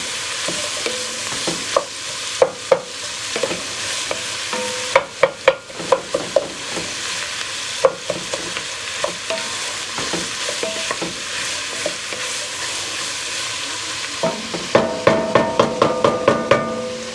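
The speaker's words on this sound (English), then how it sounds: "Get this stirred up a little bit. Get it coated in that nice pork fat." Pork carnitas stirred in hot pork fat, a steady sizzle under repeated sharp scrapes and knocks of the utensil against the pan, close and fairly loud, with a quick burst of clatter near the end.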